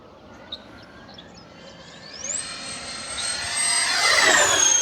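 FMS A-10 Thunderbolt II twin 70mm EDF radio-control jet making a high-speed pass, a thin whine rising in pitch as it approaches, swelling to a loud roaring rush close overhead at the end.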